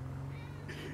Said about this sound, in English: I just hear meow, meow.